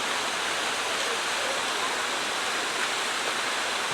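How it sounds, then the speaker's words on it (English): The waterfall at Nant Y Ffrith rushes with a dense, steady roar of falling water, loud and close and unbroken from start to finish, with no other sound standing out. "There's the waterfall."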